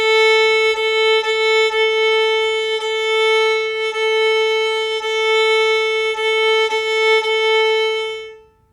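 Violin bowed on open strings in the rhythm of Go Tell Aunt Rhody, a beginner's tune, with steady sustained notes and a clear bow change on each stroke, close and fairly loud, then fading out at the end.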